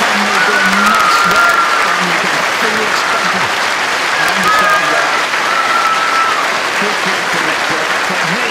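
Steady, sustained applause fills the hall at the end of a World Bowls Championship final, with commentary and murmuring voices running underneath.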